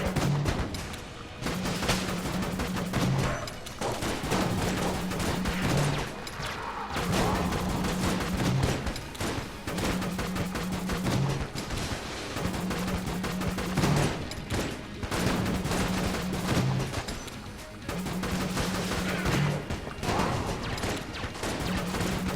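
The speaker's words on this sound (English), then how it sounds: "we're gonna go fight the boss with our mailbox gun." Rapid, continuous bursts of gunfire from a mailbox gun fill a boss fight in the video game Enter the Gungeon, with crashes mixed in and a repeating low musical pattern running underneath.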